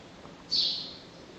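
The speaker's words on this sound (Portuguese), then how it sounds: "Ó, o passarinho cantando." A small songbird gives a single brief high chirp partway through, faint and alone over quiet background hiss.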